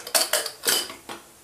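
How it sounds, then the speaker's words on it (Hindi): A pressure cooker lid is set on and fitted into place, making four quick metallic clanks and scrapes up close in a kitchen, with no talking. "कुकर का ढक्कन लगा देते हैं और ये एक सीटी आएगी तब तक बॉइल करेंगे"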